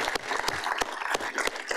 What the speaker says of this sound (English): giving our leader a unified round of applause